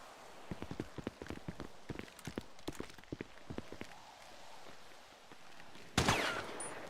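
Rapid gunshots in a roleplay video game, a fast irregular string of sharp cracks fairly close, followed by a quieter stretch and a sudden louder burst near the end.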